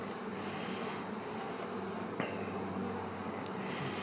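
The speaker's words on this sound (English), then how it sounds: "we got a lot of nurse bees" Honey bees, many of them nurse bees, hum steadily on a hive frame full of brood, a continuous low buzz with one brief sharper tone partway through and no talking.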